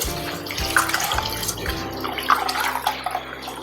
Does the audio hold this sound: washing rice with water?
yes